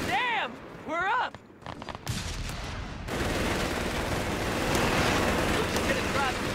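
Heavy machine gun fire in the Company of Heroes 3 war game, US forces battle: sustained rattling bursts with rumbling explosions and battlefield din, loud and continuous, with shouted voices and whistling tones at the start.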